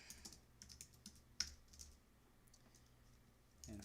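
Quiet computer mouse clicks and keyboard typing come from someone working on a web page, with scattered light taps and one sharper click standing out against a near-silent background.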